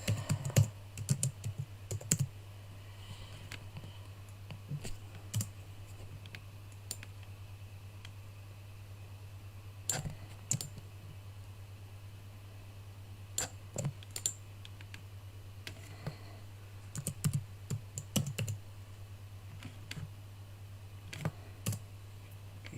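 Computer mouse clicking while working in Canvas workspace software, with sparse, sharp clicks in irregular clusters over a constant low electrical hum.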